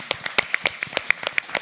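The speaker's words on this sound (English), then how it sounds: "Round of applause for Jane," A debate audience gives a short round of applause, a sparse scattering of claps from a small crowd lasting under two seconds.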